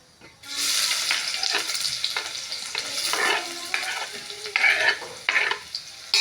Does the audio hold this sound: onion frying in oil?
yes